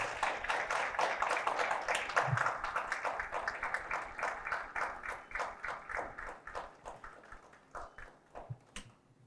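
Audience applause at the second graduation ceremony of an HR mentoring programme: a dense, steady round of clapping that slowly thins into scattered individual claps over about nine seconds, with no one talking.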